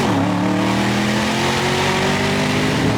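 A Porsche fitted with an IPD plenum launches hard, its engine roaring loud and close with a steadily rising pitch as it accelerates under full throttle.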